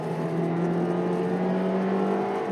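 A 2020 Toyota Corolla LE engine pulls hard at full throttle, a steady, loud droning growl with a sustained tone that holds without a break, heard from inside the car with no talking.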